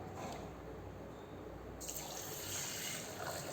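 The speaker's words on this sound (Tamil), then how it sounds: "சேர்த்துட்டு இப்போ இதெல்லாம் நல்லா கழுகிட்டு வந்துடலாங்க." Water running over wheat rava and moong dal being washed in a kitchen, a soft, steady trickle and splash that gets slightly brighter partway through.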